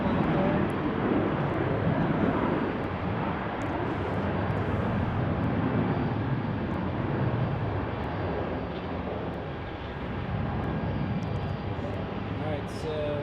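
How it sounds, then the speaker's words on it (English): A JetBlue airliner flies overhead at Salt Lake, a steady broad roar of jet engine noise holding through the whole stretch with slight swells, fairly loud and continuous, with no other sounds breaking through. "JetBlue flight there."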